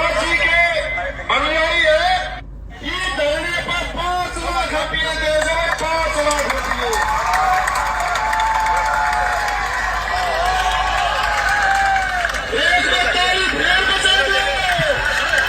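A crowd at a religious gathering chants and cheers loudly, a dense surge of many voices and shouts that carries on over a fairly continuous din, with a leader's voice calling out over it.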